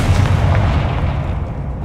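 A spell explosion in the Hogwarts Legacy video game, a loud sustained rumbling boom with heavy low-end roar lasting throughout, gradually fading slightly, with no voices.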